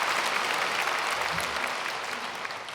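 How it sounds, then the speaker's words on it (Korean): A church congregation claps together during a Sunday service, a brief burst of dense, even applause filling the hall. "박수 한번 하십시오."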